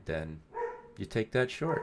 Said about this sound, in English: Pardon my dog, guys.